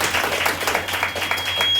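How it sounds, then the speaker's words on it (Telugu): A church congregation clapping hands to praise the Lord, a quick steady run of close, dense claps lasting throughout, with a faint steady tone beneath. "చప్పట్లు కొట్టి ప్రభు నామాన్ని మహిమపరుస్తున్నాం."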